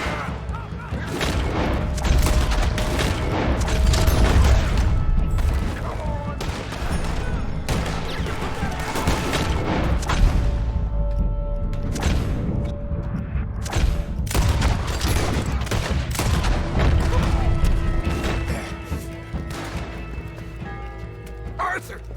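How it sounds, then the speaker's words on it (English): Rapid gunfire and explosive booms from a Gatling gun in Red Dead Redemption 2, during a Saint Denis shootout, dense and continuous for over twenty seconds with voices shouting over the din. "Oh, shit! Gatling gun!"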